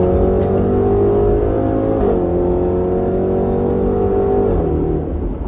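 A 2020 Range Rover Velar SVAutobiography's V8 engine revs loudly while the car is moving, a deep sustained growl that climbs in pitch, dips briefly around a gear change, then climbs again before another shift.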